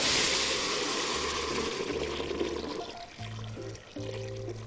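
Hot water poured from a container into a rice mixture in a kitchen, a short splashing pour that fades, followed by faint clinks and a low hum near the end.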